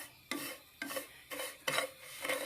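Vermicelli being roasted in desi ghee in a pan while being stirred, heard as four or five distinct scraping, rustling stirs with a faint sizzle between them, close by and with no talking.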